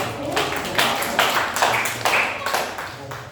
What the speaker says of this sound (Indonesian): Baik, tepuk tangan untuk Mas Bima.